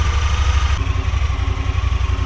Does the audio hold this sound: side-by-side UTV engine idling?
yes